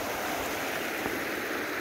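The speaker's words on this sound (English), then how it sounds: "There's ice and water going through here." The Chilliwack River runs carrying ice past a gravel bar on a winter day, a steady, even rushing of water that holds at a moderate level throughout.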